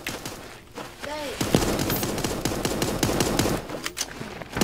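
Rapid bursts of golden-gun fire in the cartoon battle-royale game Super Animal Royale, a dense rattling volley with game effects, and a person speaking briefly.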